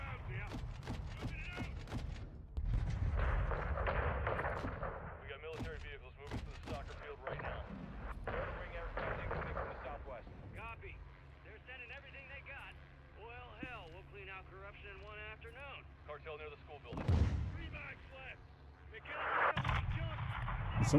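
Gunfire and artillery in the Call of Duty Modern Warfare 2 campaign, with rapid sharp shots and heavy booming blasts mixed with radio chatter and talking voices.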